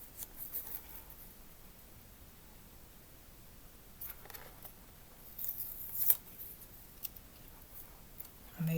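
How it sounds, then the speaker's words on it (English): Scissors snip out a small paper cut, quiet close crisp snips scattered irregularly amid faint rustling in a hushed room. "Cut it out."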